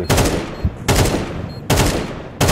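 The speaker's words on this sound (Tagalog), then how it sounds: "Naka-machine gun siya ba yun?" Machine gun fire in the game Counter-Strike 2: three loud, close bursts of rapid automatic shots separated by short gaps, with no speech.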